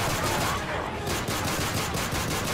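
Rapid bursts of close, loud gunfire from the Call of Duty Modern Warfare 3 video game, dense and continuous across the whole short stretch.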